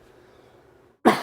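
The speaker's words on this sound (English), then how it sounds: "I don't know if this is a new cough or if it's the old one" A single sharp cough bursts out at the very end after near silence.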